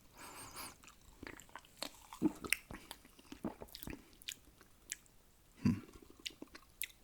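Close, quiet gum chewing with wet, squishy smacks and small clicks in an irregular rhythm, plus one louder mouth sound toward the end.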